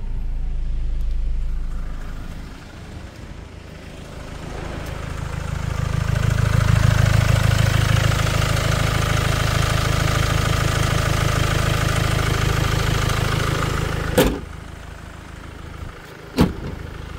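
A scrapped Land Rover Discovery Sport 2.0 diesel settles into a steady idle after starting, a low continuous engine rumble with a brief rise early on and two sharp clicks near the end.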